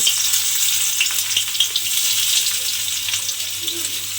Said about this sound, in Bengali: সেই পেঁয়াজগুলো কিন্তু তেলের মধ্যে দিয়ে দেব।